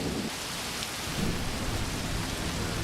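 Heavy rain and rumbling thunder in the war game Combat Mission: Beyond Overlord, a dense continuous downpour hiss with deep low rolling thunder underneath, steady and loud without speech.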